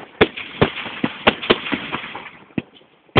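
Jubilee fireworks display at Lindfield, with a rapid irregular series of sharp cracking bangs and pops, about a dozen in three seconds, some nearer and louder than others.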